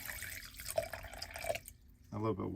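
A little water is poured into a container during a cleaning process, a brief splashing trickle that fades out, followed by a moment of quiet before a voice begins.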